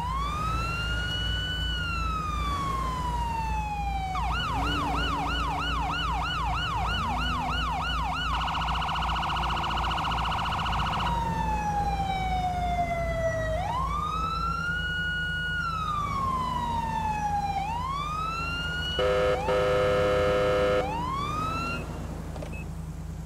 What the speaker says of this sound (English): This siren is a Carson Sierra Alpha -365 siren.